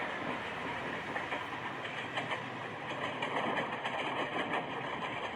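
A train running in the Indian Rail Express 2025 video game, heard as a steady, fairly loud rolling rumble with a recurring clickety-clack of wheels over rail joints and no talking.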